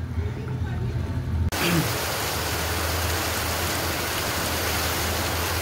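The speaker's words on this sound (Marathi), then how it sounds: "खूपच पाऊस पडतोय" Heavy rain starts abruptly at night and pours down in a dense, loud, steady hiss. Before it, a low hum and faint background sounds.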